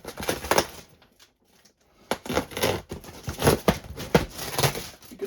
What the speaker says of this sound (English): Scissors like that.